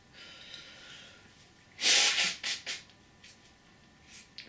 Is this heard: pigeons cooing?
no